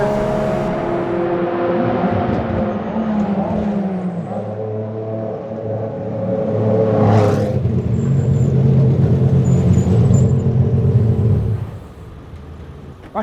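Ex-works Porsche 996 GT3 RSR race car engine drones loudly from inside as it drives, rumbling steadily and swelling in revs midway before easing off near the end.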